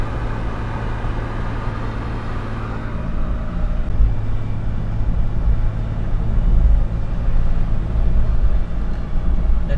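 A car climbing the Mauna Kea summit road, heard from inside as a steady low engine and road rumble that swells slightly midway and holds, with no talking.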